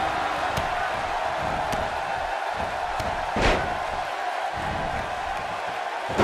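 An arena crowd in the WWE 2K18 wrestling video game, at a Phoenix venue before a triple threat elimination match, keeps up a steady roar throughout, with a brief sharp impact midway.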